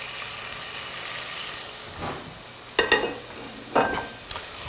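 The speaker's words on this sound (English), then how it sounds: "Should get a little sizzle when it goes in." Food hisses and sizzles in a hot pan, with a few sharp crackling bursts near the end over a steady faint frying noise.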